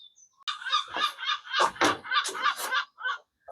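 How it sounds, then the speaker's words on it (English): A nearby seagull lets out a rapid string of harsh, raspy squawks, loud and close, with brief gaps between bursts. "Noisy seagull, do you mind?"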